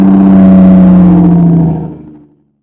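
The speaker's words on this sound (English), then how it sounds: "This is Aston Martin's 6-litre V12." Aston Martin DB9 6-litre V12 engine running with a steady, loud, close idle drone that cuts off and fades out after about two seconds.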